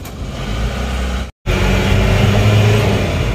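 Diesel car engine running without a thermostat, revved loud and close in a rough, rumbling drone, cut off by a brief silent gap before the throaty revving resumes and holds steady.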